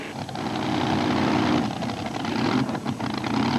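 A Ford Model T pulling vehicle at a 1989 tractor pull in Columbus, Ohio, its engine roaring loud and steady with a heavy low rumble, with no talking.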